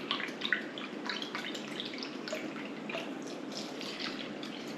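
Oat milk poured into a container while making muffins: a soft, steady liquid trickle and splash, close and fairly quiet, with no talking.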